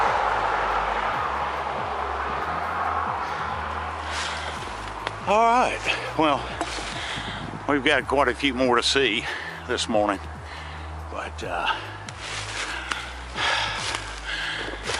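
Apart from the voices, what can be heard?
distant traffic on a busy road far below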